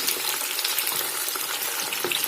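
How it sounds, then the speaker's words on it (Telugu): Fish frying in a shallow layer of oil in a pan for a crispy fish fry, giving a steady, close, dense sizzle and crackle throughout with no talking. "రెండు పక్కలా తిప్పుకొని మంచిగా వేయించుకోండి"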